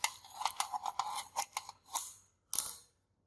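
Scissors snip through a small homemade pizza, cutting it in half: a quick series of about a dozen crisp, close cuts, then a short pause and one final snip.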